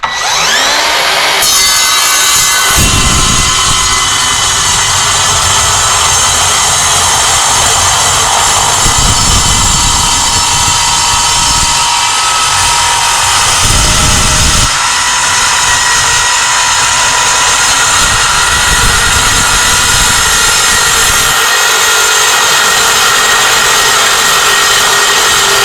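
An Evolution R185SMS-Li cordless 7-1/4 inch sliding miter saw cuts through quarter-inch thick-wall 1.5 inch square steel tubing, a loud, sustained, harsh metallic whine with grinding surges as the blade bites, continuous for the whole cut with no talking.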